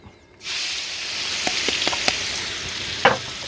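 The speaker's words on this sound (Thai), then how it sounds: "เราก็จะผัดตัวพริกกระเทียมนะครับ ให้หอมหอมหอมก่อนเลยจ้ะ" A sudden burst of hot-oil sizzling as pounded chili and garlic hit the frying pan, then a steady hiss with a few scrapes and taps from stirring.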